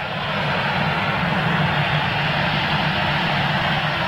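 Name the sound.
airliner departing Manchester Airport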